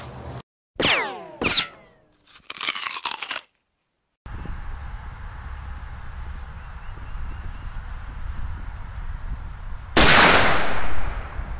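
A Federal MK 318 Mod 0 rifle round fired from a 7.5 inch barrel: a few sharp close reports early on, then steady background noise and another loud burst near the end.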